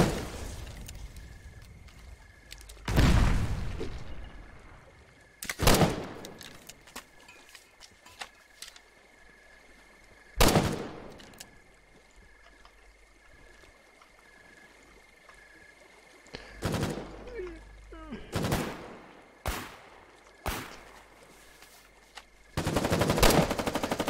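Soldiers fire from clifftops in a series of loud, sharp gunshot bursts, each cracking out and echoing off into a hushed gap before the next volley, some blasts close and heavy, others lighter and quicker.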